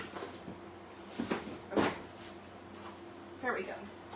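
Rummaging in a craft drawer while hunting for a jelly kit: a few short wooden scrapes and knocks near the mic, the clearest thump in the middle and another slide toward the end, with faint background hum.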